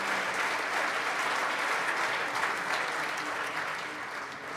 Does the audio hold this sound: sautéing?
no